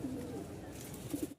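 A large house pigeon gives soft, low cooing at close range, with a couple of fuller coos near the end before the sound cuts off.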